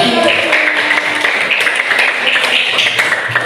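Brief scattered clapping from a fifth-grade elementary classroom, short and close, mixed with children's voices and chatter.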